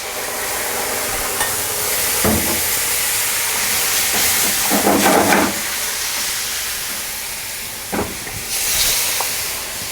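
Noodles and a cream base hit a hot pan of stir-fried vegetables for a cream pasta, giving a steady loud hiss with brief bursts of stronger sizzle and stirring clatter, no talking.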